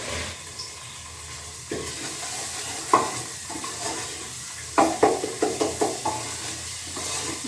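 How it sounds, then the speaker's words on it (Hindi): Onions and tomatoes sizzle and fry in a pan on a home kitchen stove, with a steady hiss broken by several sharp scraping stirs toward the end, close and fairly quiet. "प्याज भून गया मेरे, और मैं टमाटर डाल दूँ।"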